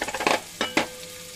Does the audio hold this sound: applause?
no